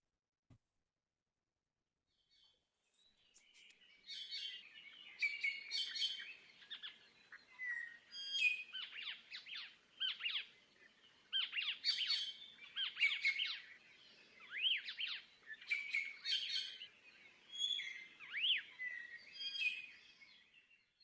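Native forest birds sing in Hakalau Forest on Hawaii Island at morning, a dense chorus of high chirps, trills and whistles from several birds, fairly distant and soft in an otherwise quiet forest.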